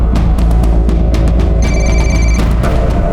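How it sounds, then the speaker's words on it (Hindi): A telephone bell rings inside a house, a steady electronic ring with bright repeating tones over a constant low hum, heard from outside the building during a crime drama scene. "घंटी की आवाज आ रही है अंदर से"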